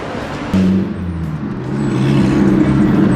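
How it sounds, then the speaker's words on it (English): A bus in a Russian town roars past close by, its low engine drone and whir swelling loudly and holding strong for a few seconds. "a bus just passed and now she's scared"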